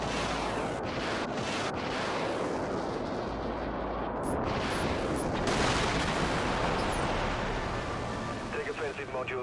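Ship modules in the Dreadnought space combat game fire at targets in a loud, continuous barrage of booming shots and blasts, with dense rumbling throughout and a brief quieter dip midway.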